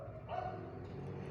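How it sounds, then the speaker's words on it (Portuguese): Dogs bark and yip at moderate distance during a Portuguese-language church sermon, sounding fairly faint over a constant background hum. "os cachorros ficam latindo aqui"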